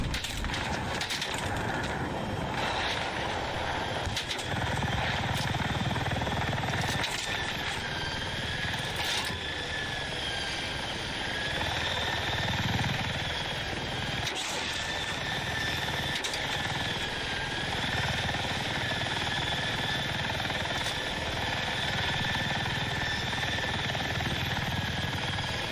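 Helicopter in the video game Battlefield 6, its rotor and engine drone running steadily and loudly throughout with a constant whine, alone with no talk over it.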